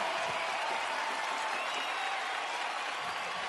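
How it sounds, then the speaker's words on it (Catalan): A concert crowd applauds at a show, a dense, continuous roar of clapping and cheering that stays loud and even from start to finish. "Un aplaudiment."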